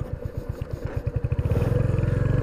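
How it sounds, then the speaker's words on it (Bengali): A Royal Enfield Hunter 350 motorcycle starting up and pulling away in first gear, its single-cylinder thump loud and close. The beats come in evenly at first, then quicken and merge into a steady throb as it moves off. "এখন স্টার্ট দিয়ে গে, প্রথমে একটা গিয়ার। পাওয়ারটা দেখতে পাচ্ছেন সুন্দর"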